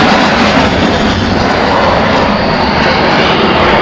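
A Polish Air Force MiG-29 fighter jet passing close and loud, its engines making a dense, steady roar that fills the whole few seconds without letting up.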